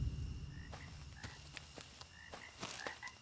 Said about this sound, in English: That, my friend, is a frog.